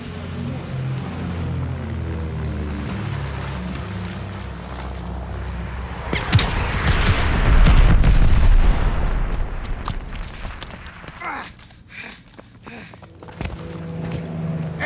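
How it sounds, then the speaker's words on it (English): Bombing run in Call of Duty: Vanguard, a deep rumbling explosion swelling to a loud roar midway and then fading, surrounded by scattered bursts of battle noise. "Friendly bombing run on the way."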